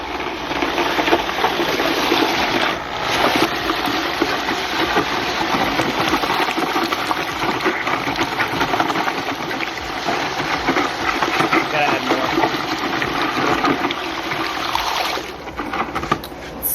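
A drill fitted with a paddle mixer churns concrete and water for horse stall floors, a steady, loud broadband whirring and sloshing that runs continuously and close throughout with no clear pauses.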